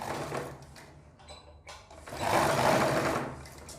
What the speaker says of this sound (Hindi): इसे भी दोस्तों फिर इस तरीके से सिलाई मार देनी है